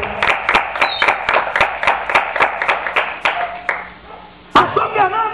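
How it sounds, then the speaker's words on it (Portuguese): Church congregation clapping in a quick, steady rhythm, loud and close, for about four and a half seconds; after a brief pause, voices and sound from the service pick up again. "Dá uma salva de palmas a Jesus Cristo nessa noite."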